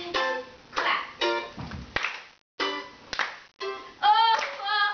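Rhythmic hand claps ring out during a live acoustic performance in a small living-room setting, sharp, evenly spaced hits alongside a singing voice.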